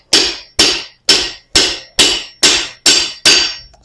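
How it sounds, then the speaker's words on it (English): A blacksmith strikes a chisel with a hammer to split hot iron on an anvil, eight sharp ringing blows in an even rhythm about half a second apart, close and loud. "I'm going to use a chisel to split the front to make our two eyes"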